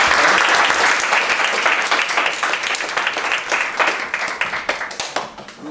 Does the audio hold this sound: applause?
yes